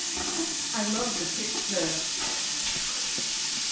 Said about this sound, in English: we're gonna start sauteing the garlic and onion